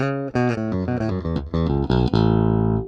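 A Sterling by Music Man Ray 34 bass guitar plays a short run of picked notes, recorded dry straight into the interface with no effects, ending on a held low note.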